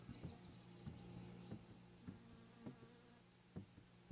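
Mosquitoes buzzing in the My Summer Car video game, a quiet whining drone with repeated soft pulses about every half second, alone without talk.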